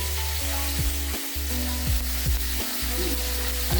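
Cumin seeds and bay leaves dry roasting in a frying pan, giving a steady close sizzle with sharp crackling pops as the seeds burst, plus occasional scraping of a spatula against the pan.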